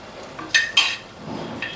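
Coriander seeds dry-roasting in a small kadai over a stove, heard as soft scraping and rattling stirs with a couple of sharper clinks of metal, fairly close and without any voices.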